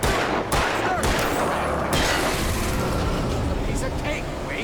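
Several loud gunshots ring out in the Alan Wake video game, sharp bursts near the start and around the two-second mark over a dense, noisy mix of game effects.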